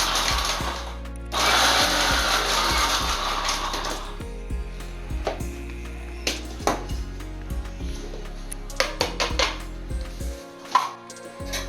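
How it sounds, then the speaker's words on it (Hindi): A kitchen mixer grinder pulses walnuts coarsely, giving a loud whirring burst followed by choppy, rattling bursts as the blades spin down and the jar is handled. Close by, with no speech. "यहाँ पे मैं पीस रही हूँ अखरोट को। इसको भी जस्ट मिक्सी एक राउंड घुमा के बंद करना है"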